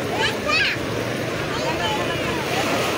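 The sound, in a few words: sea waves on the beach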